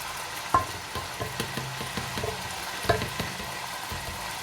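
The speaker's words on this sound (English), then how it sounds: "I'm just gonna add my garlic to it" Garlic added to a pot of melted fat sizzling and frying at close range, a steady crackle broken by a few sharp knocks and clatters, with no talking.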